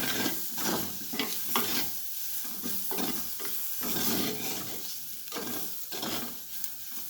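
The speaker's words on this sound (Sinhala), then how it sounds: "ඊට පස්සේ අපි මේක පොඩ්ඩක් කවලම් කරගන්න." A dried fish mixture is stirred in a sizzling pan, with a spoon scraping in a steady, repeated rhythm over continuous close frying hiss.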